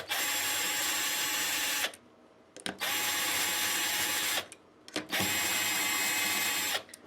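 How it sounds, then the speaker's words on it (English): A power drill is used on an Epiphone Les Paul Special guitar, running in three sustained, steady bursts of about two seconds each with brief quiet gaps between them, loud and close with no talking. "For anybody that thinks me using a drill is out of the ordinary or wrong"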